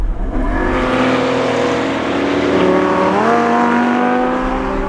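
A race car accelerates hard along a track, its engine note climbing steadily, briefly dropping at a gear change, then rising again; loud and close, with no voices.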